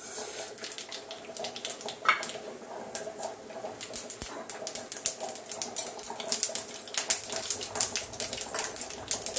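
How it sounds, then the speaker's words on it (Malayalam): Mustard seeds pop and splutter in hot coconut oil in a pan, a dense crackle of sharp small bursts rising steadily, near and fairly quiet. "കുറച്ച് വെളിച്ചെണ്ണ ഒഴിച്ച് ചൂടായിട്ടുണ്ട്. അപ്പം നമ്മൾ ഒരു സ്പൂൺ കടുക് ഇടുക"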